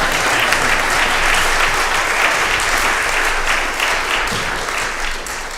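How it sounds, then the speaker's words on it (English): Congregation applauding during a church service: loud, dense, sustained clapping that fills the room throughout, tapering slightly toward the end. "this is a service where we should be applauding and making lots of noise"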